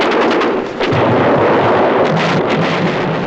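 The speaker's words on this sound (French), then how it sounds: "L'artillerie française prodigue ses tirs d'arrêt" World War I French artillery barrage fire near Belleau Wood, a dense, continuous roar of overlapping booming blasts with rumbling low thuds throughout, loud and unrelenting with no voices.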